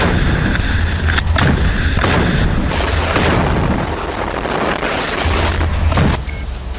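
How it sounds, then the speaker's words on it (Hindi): Explosions and gunfire in a Gaza combat zone as Israeli tanks are destroyed, a dense barrage of booms and sharp cracks rolling on continuously and loudly with no pauses. "ये वीडियो हमास लड़ाकों ने जारी किया है, जिसमें गाजा के अलग अलग शहरों में इजराइल के विनाशक टैंक तबाह होते नजर आ रहे हैं।"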